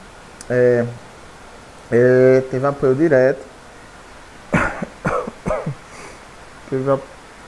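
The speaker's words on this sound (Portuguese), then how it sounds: "eu estava tossindo aqui que beber um pouco d'água" Someone coughs and clears their throat repeatedly at close range, in several loud, harsh bursts with short pauses between them and no speech.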